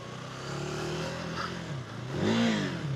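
A KTM 390 Adventure R motorcycle engine revs in false neutral on a trail ride, a steady single-cylinder drone that climbs into a louder, rising rev near the end, close up with no talk.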